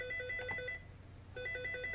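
Telephone ringing in a room during a software tutorial: two bursts of electronic warbling trills, each about three-quarters of a second, separated by a short pause, moderately loud with no talk over it.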